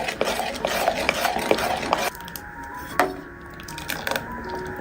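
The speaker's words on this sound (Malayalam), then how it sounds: "അപ്പോൾ കട്ടകളെല്ലാം ഒന്ന് ഇളക്കിയിട്ട് കൊടുക്കുക" A sweet mixture is stirred in a pot to break up lumps, with close repeated scraping and clinking strokes for the first half, then quieter intermittent scrapes and taps.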